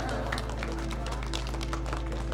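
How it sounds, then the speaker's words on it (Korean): Children in an art and philosophy class clap together, a busy patter of quick hand claps filling the whole moment over a steady low hum, with faint voices mixed in. "우리 박수 한번 주세요."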